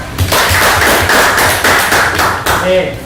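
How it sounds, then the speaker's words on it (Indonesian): Hands clapping in a classroom after a student's geometry demonstration, a steady burst of close, sharp claps from a small group of students, with a brief voice coming in near the end. "Masih tepuk tangan untuk Mas Ahmad."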